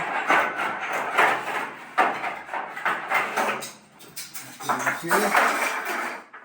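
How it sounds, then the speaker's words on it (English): A stainless steel band clamp undone on a dust collector, with metallic clanks and rattles under steady talking, close by. "So I'm going to just undo my stainless steel band clamp here and just get it out of the way."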